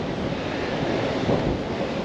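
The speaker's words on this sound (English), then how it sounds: "Especially with this wind, I guess." Wind blows hard at a beach in Essaouira, Morocco, a loud constant roar buffeting the microphone and blending with rushing surf, with no speech.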